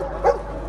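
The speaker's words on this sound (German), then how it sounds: "Der Hund soll verbellen, das heißt, er sitzt vor der Person, steht und bellt, darf aber nicht beißen." A police dog on a training exercise gives one short, faint bark against a steady low background hum, with no other sounds around it.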